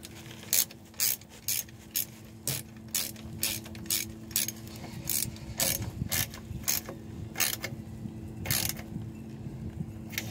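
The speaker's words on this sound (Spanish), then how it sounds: "Mira, ahora vamos a apretar otros de este lado, unos dos también, para que vaya quedando." A ratchet wrench tightens the bolts on a car's automatic transmission oil pan, giving short bursts of rapid clicking strokes with brief pauses, close and clear over a low background hum.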